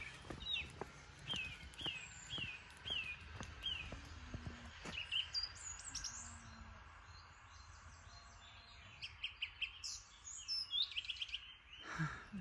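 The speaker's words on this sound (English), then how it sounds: "Love the sound of birds." Birds chirping and singing outdoors on a countryside walk in East Devon, UK, several short bright calls up close early on, then quieter scattered song under faint footsteps and ambient rustle.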